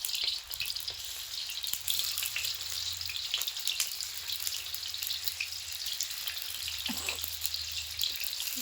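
Large-cut pieces sizzle in hot oil in a pan with a steady, dense frying hiss and faint occasional clinks throughout, close and without any talk.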